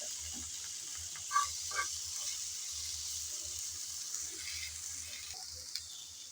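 Chopped tomatoes hitting a pan of lightly browned fried onion and garlic, a soft steady sizzle with a few clinks of a utensil, faint and close.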